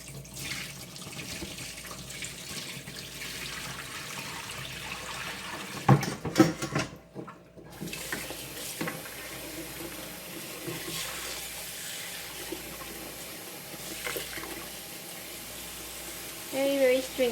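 Tap water pours and runs steadily into a kitchen sink while a sweet flour dessert dough soaks, a continuous close splashing hiss with a short break midway before the flow resumes.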